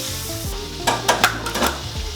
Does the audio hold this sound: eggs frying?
yes